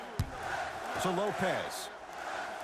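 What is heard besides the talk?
arena crowd cheering in the video game NBA Live 23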